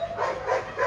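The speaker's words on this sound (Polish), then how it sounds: "bo wiem, że szczekają wszędzie" Puppies give a brief, close flurry of small barks and yips, less than a second of high, overlapping dog sounds.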